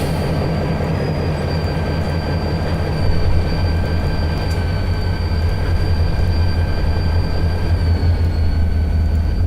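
A simulated train hauled by SD40 locomotives in the Trainz game, a continuous low rumbling diesel drone with steady tonal whines above it, loud and unbroken throughout, no voices.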